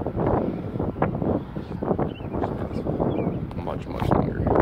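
Wind gusting across an open golf course on a 507-yard par 5, a steady loud rush with low buffeting against the microphone beneath talk.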